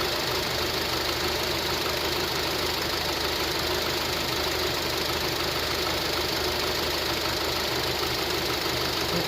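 A 2007 Honda CR-V engine idles rough and rich, a steady close mechanical hum with a faint knocking pulse that holds throughout.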